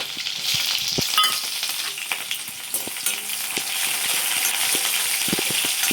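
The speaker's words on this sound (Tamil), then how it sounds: "வெந்தயம் போட்டுட்டு இந்த பாருங்கள், கொஞ்சமாக சீரகம் பாருங்கள், வடகம் பொரிஞ்சோன்னா" Fenugreek, cumin and vadagam crackle in hot oil for tamarind kuzhambu, a loud steady sizzle with sharp popping bursts and occasional spoon clinks.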